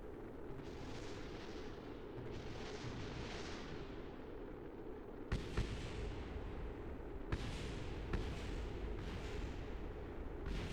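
Detonations in Kerbal Space Program as a vessel blows apart: a heavy, sustained rumbling roar with several sharper booming bursts in the second half, loud and continuous.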